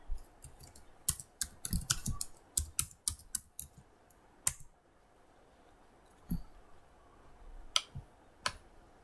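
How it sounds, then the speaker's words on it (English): A computer keyboard clacks as a command is typed in, with a quick run of close, crisp keystrokes, a pause, then a few scattered key presses. "So that's what I'm going to type in now."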